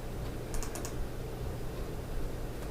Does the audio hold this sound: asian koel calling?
no